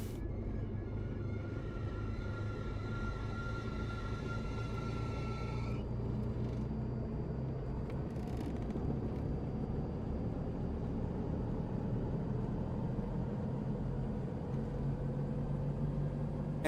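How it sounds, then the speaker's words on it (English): Aircraft engines spool up from startup toward full throttle in Microsoft Flight Simulator 2024, a steady loud low drone with a rising whine that fades after a few seconds, with no talking. "Engines are still coming on."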